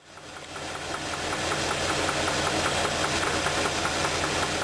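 A petrol engine runs with knocking, a rapid metallic pinging over a steady mechanical roar that swells in the first second and then holds loud and constant.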